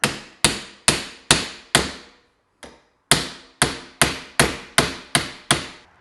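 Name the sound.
hammering out motorcycle shock bushings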